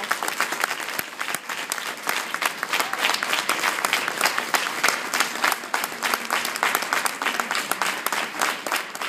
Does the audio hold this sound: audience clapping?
yes